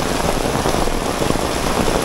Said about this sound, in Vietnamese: Mưa tạt lắm nha quý vị, tạt rất lớn luôn, mịt mù luôn.